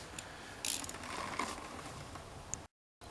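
Engine bolts being undone on a Honda CBF125 motorcycle, heard as quiet ratchet clicking and metallic turning sounds, close and faint, with a short burst of ratcheting followed by lighter clicks.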